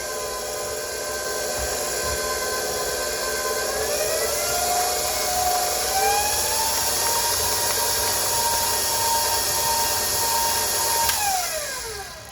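An electric mixer beats New York style cheesecake batter with lemon juice and vanilla, a continuous close whirring drone whose pitch rises in steps as the speed increases, then winds down at the end.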